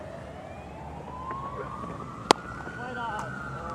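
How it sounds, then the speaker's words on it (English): Emergency sirens wail near the Basin Reserve cricket ground during a New Zealand v England Test match: one long, slowly rising tone, fairly distant, over a steady ambient hum, with a single sharp click partway through. "Soothing sounds of the sirens around the Basin Reserve."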